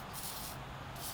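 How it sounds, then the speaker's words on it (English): Penetrating spray hissing steadily from an aerosol can onto the bolts of a 1983 Chevrolet C10, a close, continuous broadband spray with brief pauses in the hiss. "spray these bolts. Spray them down."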